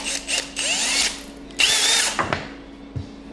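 A power drill with a larger bit bores a dowel-sized hole into a poly panel prop, whirring in several close bursts of varying length, with short pauses and ratcheting stops between runs.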